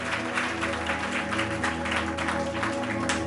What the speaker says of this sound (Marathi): जरा जोरदार टाळ्या प्रभूच्या गौरवासाठी.